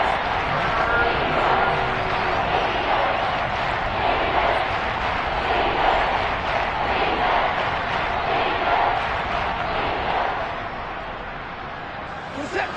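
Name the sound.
football stadium crowd cheering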